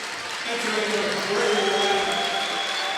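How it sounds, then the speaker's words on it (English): At a girls basketball section semi-final between Park Center and Roseville, a gym crowd breaks into sustained applause and cheering, a dense continuous wash of clapping, with an announcer's voice faintly audible beneath it. "You might see your biggest round of applause here from Roseville."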